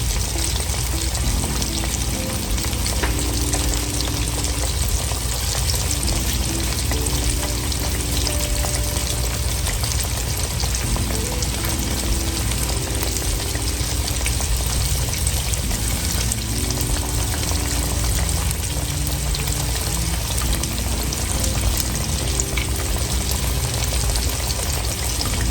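Parmesan-crusted chicken frying in a pan, giving a loud, continuous sizzle and crackle of hot oil that holds steady from start to finish, with no voices.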